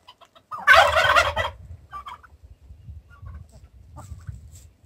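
A turkey gobbles loudly in a close, rattling burst around farm hens, then fades into quieter clucks and low barnyard murmurs.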